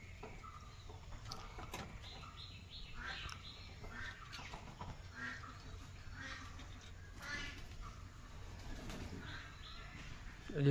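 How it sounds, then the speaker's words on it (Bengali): Pigeons gathering at food set out for them on a street, with scattered soft bird calls and clucking-like notes over steady outdoor background noise. "এই যে পায়রার জন্য ওখানে দিয়েছে পায়রাটি ওখানে চলে আসছে"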